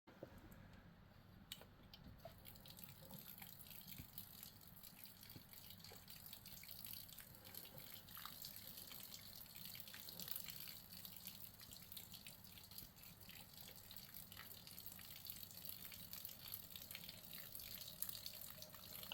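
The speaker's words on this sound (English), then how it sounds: "we'll give it a good water." Water splashes and trickles gently onto a cherry blossom bonsai (Kojo no mai), a faint, continuous pour with small drips, close by and without talk.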